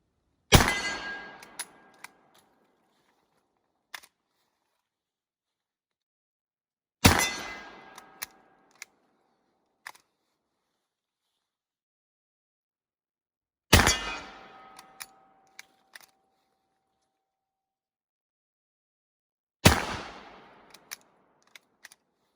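An 11mm Gewehr 71/84 Mauser rifle fires four sharp, loud shots spaced several seconds apart, each ringing out and decaying, with small clicks of the bolt action between them.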